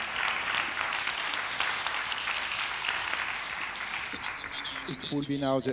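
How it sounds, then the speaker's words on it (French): Audience applause closes a round-table discussion on robots for field crops at the FIRA 2019 event. Dense, steady clapping fills the room throughout, and a voice begins speaking near the end. "Je crois qu'ils méritent des applaudissements."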